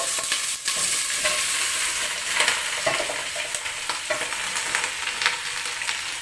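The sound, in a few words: stirring vegetables frying in a pan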